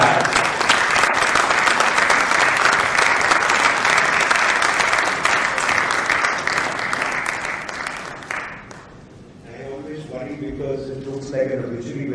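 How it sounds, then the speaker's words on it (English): A large audience gives a long, loud round of applause to welcome a guest at an interactive session. The clapping holds for about eight seconds, then thins out as a voice starts speaking. "let's welcome him with a huge round of applause"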